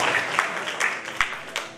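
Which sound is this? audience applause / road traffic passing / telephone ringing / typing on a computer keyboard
audience applause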